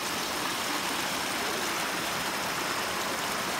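Water flows steadily at a mountain water source, a constant, fairly close rushing and splashing with no break and no voices.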